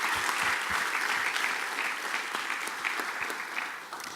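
An audience at the close of an academic dialogue event applauds warmly, a continuous, even patter of many hands that holds steady for several seconds before easing off.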